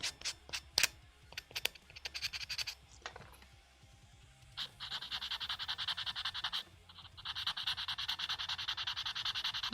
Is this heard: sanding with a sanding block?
yes